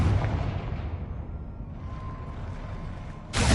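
A Confringo blasting spell exploding in the game Hogwarts Legacy, with a deep rumbling boom that rolls and decays over a few seconds before a sharp burst starts right at the end.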